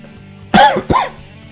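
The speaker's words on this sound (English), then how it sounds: "I don't know why I'm coughing so much today." Two sharp, harsh coughs in quick succession, close and loud, with quiet room tone before and after.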